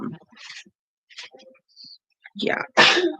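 A single sharp sneeze bursts out near the end, loud and close, among short bits of quiet conversation and a brief spoken reply.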